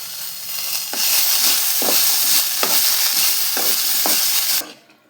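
Raw peanuts are dry-roasted in a pan, producing a dense, crackling sizzle broken by a regular series of scraping stirs roughly once a second, before the sound drops away at the end.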